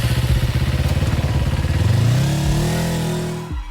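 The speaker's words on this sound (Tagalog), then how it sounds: "Agad ay pinaharurot ko ang motorsiklo." A motorcycle engine runs loud and close with a steady rapid chug, then revs up in a rising whine as the bike pulls away, fading a little at the end.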